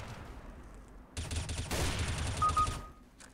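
Rapid gunfire in the video game Overwatch, a dense rattling burst of shots lasting roughly one and a half seconds at moderate loudness, with a faint tone near the end.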